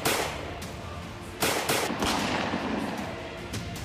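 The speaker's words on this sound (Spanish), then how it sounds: "Con una intensa ráfaga de disparos" Intense burst of gunshots caught in street footage of an armed robbery in Jaén, sharp loud cracks at intervals over a noisy background, with one strong blast midway and weaker shots after it.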